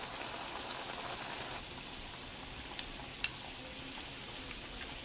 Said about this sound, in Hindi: इसमें हम इस तरह से कटलेट डाल देंगे और कुछ देर हम इनको बिल्कुल छेड़ेंगे नहीं, इनको एक तरफ से ब्राउन होने देंगे।